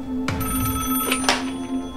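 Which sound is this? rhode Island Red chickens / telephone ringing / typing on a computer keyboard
telephone ringing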